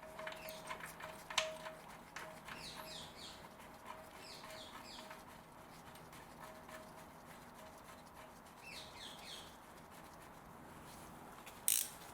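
A ratchet clicks in short, faint runs as a sump plug bolt with a new washer is tightened on a Mercedes 190E, with quiet pauses between the bursts and a sharper knock at the end.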